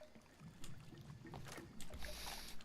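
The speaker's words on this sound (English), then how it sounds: "we'll be jumping in the river and taking the boat up" Boat travelling on a river in the video game Far Cry 2, a low engine rumble with water splashing and sloshing that swells toward the end.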